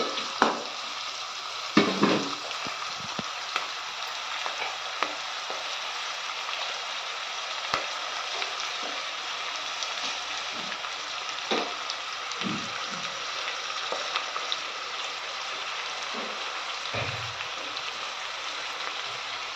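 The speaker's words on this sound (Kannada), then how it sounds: "ಅದು ಸ್ವಲ್ಪ ಬಣ್ಣ ಚೇಂಜ್ ಆಗಬೇಕು ಈರುಳ್ಳಿದು ಅಲ್ಲಿ ತನಕ ಫ್ರೈ ಮಾಡ್ಕೊಳ್ಳಿ" Onions frying in a pan for egg rice, a steady soft sizzle running throughout, with occasional stirring knocks and scrapes of the utensil against the pan.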